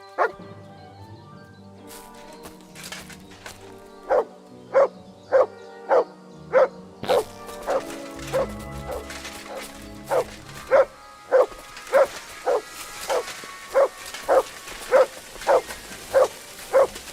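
A dog in Kingdom Come Deliverance II barks on command, a long run of evenly spaced, sharp, close barks repeating about once a second over soft background music.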